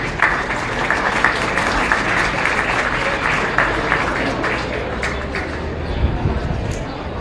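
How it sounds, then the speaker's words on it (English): A crowd applauds at a Mills County Fair cattle show, sustained clapping spread through an arena-like space with a slight murmur beneath, holding steady for several seconds. "let's give them a round of applause, please"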